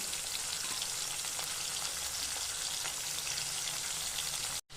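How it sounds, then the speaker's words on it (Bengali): Prawns frying in a pan for a prawn and cauliflower mash, a steady close, loud broadband sizzle that runs unbroken before cutting out abruptly at the very end. "চিংড়ি মাছগুলো বেছে এবার আমি এর মধ্যে দিয়ে দিচ্ছি দিয়ে এটাকে ভালো করে ভেজে নেব"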